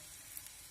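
Sugar-free, flourless pancakes fry in a hot pan with a faint, steady sizzle, a soft, even crackle that runs evenly for a brief moment.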